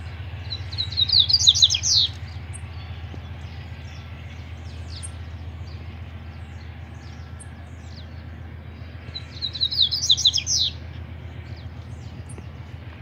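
Double-collared seedeaters (coleiros) singing and competing, two bursts of bright, rapid twittering song a few seconds apart, heard over a steady low hum.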